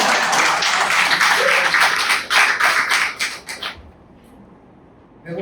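Audience applause for an Argentine painter at a talk, dense clapping from a room full of people that holds steady for several seconds and then thins out to scattered claps before dying away.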